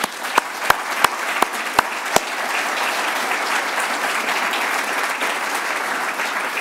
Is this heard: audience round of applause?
yes